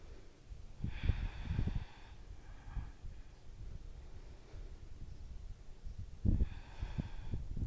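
Deep breaths held in a yoga high lunge during a beginner vinyasa class: a few slow, audible inhales and exhales through the nose, close and soft, with rustling between them.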